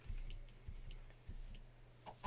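Chickens clucking in Minecraft, short rhythmic clucks repeating across the clip, faint and close, with no talk.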